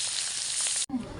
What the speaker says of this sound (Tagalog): Magprito ta dira og bulad.